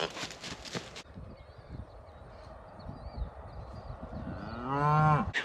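Cattle moo at a pig feeder, one loud, drawn-out low call rising near the end over a rough outdoor background rumble, with a burst of noisy clatter at the start.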